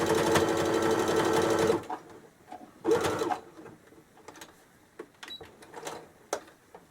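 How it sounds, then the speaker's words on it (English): Sewing machine stitching a double stitch seam on a quilted rag bag: a steady mechanical whir for about two seconds, a second brief burst, then quiet clicks and fabric handling. "So I'm gonna sew it right here. So I'm gonna go here and just again using a double stitch."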